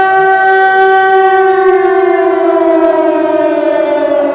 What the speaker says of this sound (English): we're hearing some air raid sirens